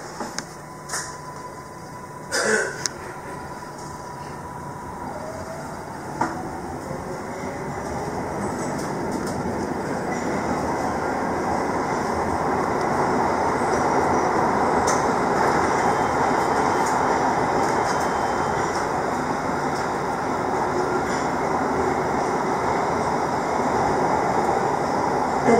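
A MARTA Red Line subway train in Atlanta rides toward Airport Station, its loud, continuous rumble building as it gathers speed, with faint rail clatter and a few sharp clicks early on.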